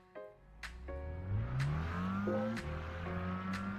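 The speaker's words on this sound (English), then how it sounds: "I don't want people to hear the glitching engine noises which cut off constantly" Car engine sound from a Mitsubishi Lancer Evolution X in Gran Turismo 5, with rising and falling harmonic tones and sharp clicks where the sound glitches and cuts off, steady and loud with no voices.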